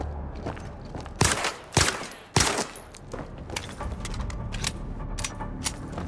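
Gunshots at a VR shooting range in the game Zero Caliber: three loud, sharp shots fired close in quick succession, then lighter metallic clicks and handling noises.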